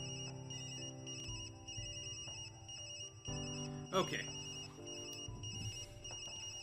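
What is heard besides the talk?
phone ringing in the video game Tokyo Dark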